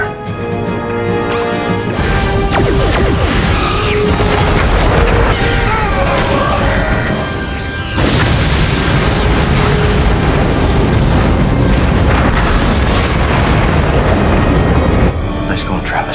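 Starship weapons fire and explosions in a Star Trek Enterprise space battle against a Klingon Bird of Prey, a loud continuous wall of booming blasts and crashes with a score running throughout.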